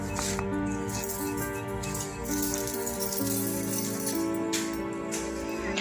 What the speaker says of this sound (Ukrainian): Останнім часом день за днем іде дощ.